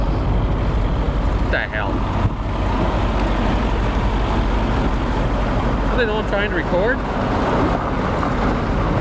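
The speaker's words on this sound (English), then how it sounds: "I got a loud truck that's coming in right behind me." A loud truck pulling in right behind the speaker outdoors, a heavy, steady rumble that fills the whole stretch while someone talks over it.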